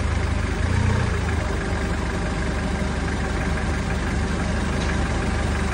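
A forklift engine runs steadily at idle during a hydraulic pump test, a loud, continuous low rumble that holds even throughout with no clear revving.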